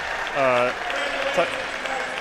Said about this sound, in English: That was a pretty loud cheer